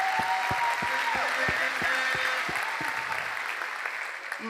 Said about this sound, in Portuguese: Vamos aplaudir isso aí de novo.